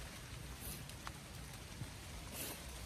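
Rain falling steadily outside beside a garden greenhouse and raised vegetable beds, a soft continuous hiss of moderate loudness with occasional faint drop impacts, no voices.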